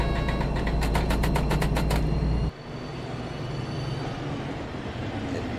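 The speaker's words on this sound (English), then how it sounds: "That train is departing, and that train is passing by." A loud rumbling train roars close by with rapid rhythmic clacking, then cuts to a quieter, steady rolling rumble of rail traffic on the Hamburg–Lübeck main line.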